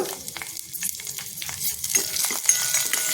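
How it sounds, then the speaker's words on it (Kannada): Chopped green chillies fry in a mustard-seed tempering for a totapuri mango curry: a bright, crackling sizzle close by, with quick stirring scrapes and pops spread across a few seconds. "ಈಗ ಸಾಸಿವೆ ಒಗ್ಗರಣೆ ಹಾಕ್ಕೊಂಡಿದ್ದೀನಿ ಅದಕ್ಕೆ ಹೆಚ್ಚಿರೋ ಹಸಿಮೆಣಸಿನ್ಕಾಯಿ ಹಾಕ್ಕೊಳ್ತಾ ಇದ್ದೀನಿ"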